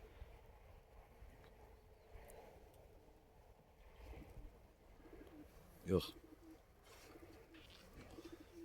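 Soft pigeon cooing in the background with a quiet outdoor ambience and a brief louder knock or thump partway through.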